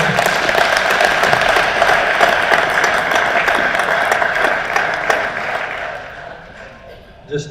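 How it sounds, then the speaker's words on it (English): A crowd at a racing reunion event bursts into loud, sustained applause that tapers off near the end, with a voice speaking over it as it fades. "please give a big round of applause"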